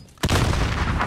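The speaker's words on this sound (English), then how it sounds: "Rocket launcher." A rocket launcher explosion in Call of Duty: Modern Warfare hits as one sudden, loud boom and then roars on as a sustained, dense blast rumble that fills the rest of the moment.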